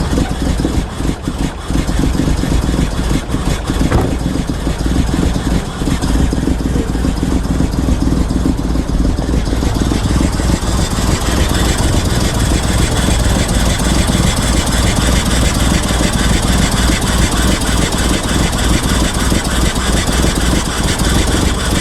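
An old small engine idles steadily and loudly close by for the whole stretch, with a rough, slightly uneven running note.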